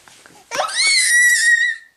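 A baby girl lets out a high, bright shriek lasting over a second, loud and close, preceded by a few soft small vocal sounds.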